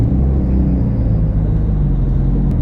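Nissan S13 drift car idling and rolling onto a cold race track, a steady low engine rumble close by with no talk over it.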